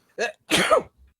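A person sneezes: a short intake burst followed by a louder, sharper explosive sneeze, then a faint trailing breath, close and alone.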